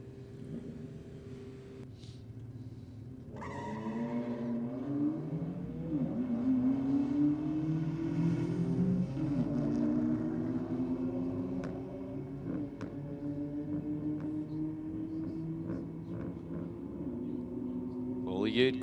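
Drag racing cars at Sydney Dragway rev up and accelerate away, with engine notes rising and sweeping in pitch as they pull off and fade. A commentator talks over the engines throughout.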